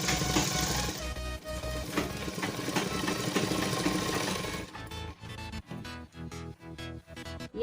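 A sewing machine stitches a salwar in fast rhythmic bursts, running steadily for several seconds and then in short stop-start runs, close and loud with no voices.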